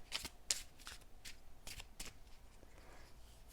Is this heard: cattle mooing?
no